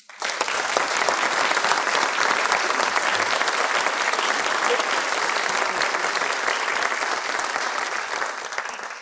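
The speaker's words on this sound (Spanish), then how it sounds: "Un aplauso." Audience applause at a political book presentation in Córdoba, a loud, dense, unbroken roar of clapping from a large crowd lasting several seconds.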